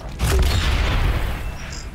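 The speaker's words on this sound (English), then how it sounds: "Grenade! Blow up." A grenade explodes in the video game Aliens: Dark Descent, a sudden loud booming blast with a deep rumbling tail that fades over a couple of seconds.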